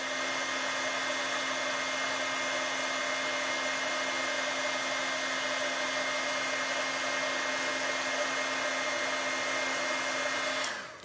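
A heat embossing tool blows hot air to melt embossing powder during papercrafting, a continuous steady whirring drone that holds even for about eleven seconds before cutting off abruptly.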